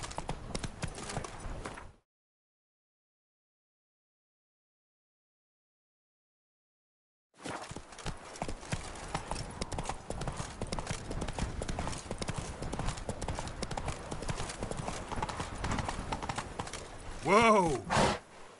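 Horse hooves clip-clop at a steady trot in a PS4 video game, with a short silent gap, a brief whinny near the end and some speech in the game.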